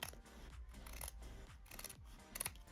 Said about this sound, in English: I'm using my Fiskars razor edge scissors.